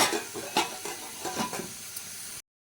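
Onions with turmeric powder sizzle gently in a pan on low flame, with soft stirring scrapes and light clinks over a quiet steady hiss that stops abruptly.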